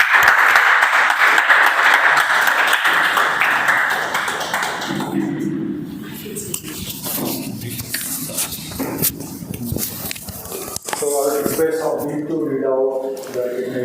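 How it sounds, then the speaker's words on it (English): Audience applause at a Toastmasters club meeting, a dense wash of clapping for the first several seconds that thins out, with talk and scattered claps continuing toward the end. "Let's have a huge round of applause for Toastmaster Abhik."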